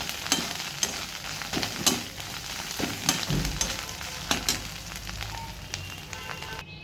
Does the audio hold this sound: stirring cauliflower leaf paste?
yes